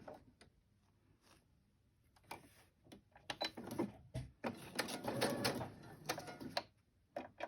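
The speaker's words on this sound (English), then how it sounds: "I want to sew around this one as well" A sewing machine stitches around a lace-covered paper envelope pocket, with bursts of quick mechanical whirring and rattling, near and moderately loud, and short pauses between runs.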